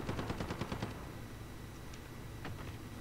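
Rapid burst of gunfire in Call of Duty Modern Warfare (2019) on the St. Petrograd map, a quick string of sharp shots up front, then a quieter stretch with two isolated distant reports.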